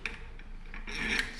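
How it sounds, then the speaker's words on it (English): A short metallic rasp and rubbing scrape is heard as brake pads are removed from a Schwinn heavy-duty bicycle, close and fairly steady, rising slightly toward the end. "It's just as simple as removing those brake pads"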